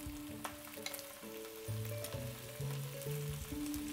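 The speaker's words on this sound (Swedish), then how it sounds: "Så nu är det bara att steka dem här i" Saltimbocca alla romana, veal with the ham side down, frying in a pan that will later hold the sauce, giving a steady, close sizzle that runs through the whole stretch with sustained tones behind it and no talking.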